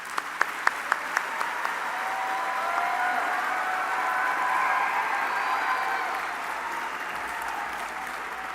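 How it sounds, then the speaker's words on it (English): A large crowd at a college convocation ceremony applauds graduates, producing a dense, sustained wash of clapping that swells slightly midway, with a few sharper claps at the start. "Let's give them a large round of applause for today's graduates to get them started."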